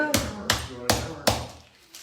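A small hammer pounds a pork loin in four sharp, evenly spaced thuds, close and loud, each ringing briefly before the next strike.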